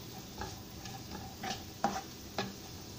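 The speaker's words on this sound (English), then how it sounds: "Mix this well and cook until onion is transparent and slightly yellowish." Onions being stirred and cooked in a pan, with a few distinct scraping knocks of a spoon against the metal over a soft, steady sizzle.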